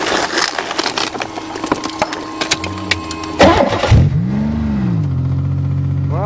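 A Buick crushed twice by a 20-ton dozer cranks and catches, its engine firing up after some rattling and clanking, then settling into a loud, rough, close rising and falling rev.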